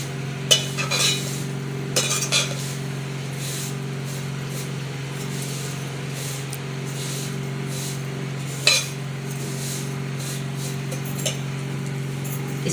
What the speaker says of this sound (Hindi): हम इसको थोड़ी आहिस्ता आहिस्ता से भूनेंगे